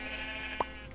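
A single short sheep bleat sounds in a video game, brief and clear over a steady hum of background game music.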